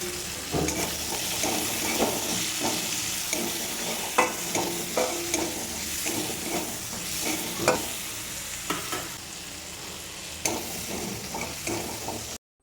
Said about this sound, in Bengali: আর এবার পেঁয়াজটা একটু নাড়িয়ে নিচ্ছি।